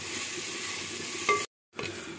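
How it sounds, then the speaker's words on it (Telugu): Ginger garlic paste sizzles steadily in a clay pot while being stirred for mutton sherva, a continuous close crackle that cuts out briefly near the end and then resumes. "వేసుకొని మెల్లగా మిక్స్ చేసుకుంటూ బాగా ఏగేంత వరకు కలుపుకోవాలి"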